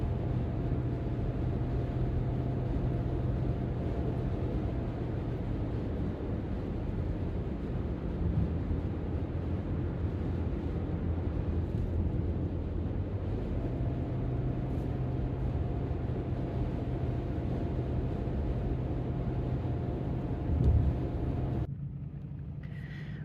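A minivan drives along a road, its steady low engine and road rumble constant with wind buffeting, continuous and fairly quiet, ending in a brief shift near the close.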